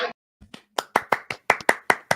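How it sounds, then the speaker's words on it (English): Sharp hand claps, about nine in a loose rhythm, loud and close with no talk, following a brief opening noise. "Oh, the clapping we will do."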